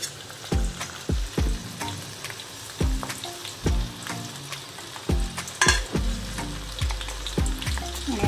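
Curry leaves and hibiscus leaves frying in hot hair oil, a steady close sizzle with crackling pops and repeated stirring taps against the pan.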